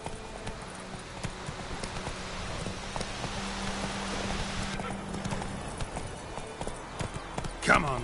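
A horse gallops while ridden in The Witcher 3, its hoofbeats running steadily under rain and a speaking voice, with a brief sharp sound near the end.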